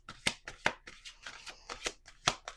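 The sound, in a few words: shuffling Witching Hour Oracle cards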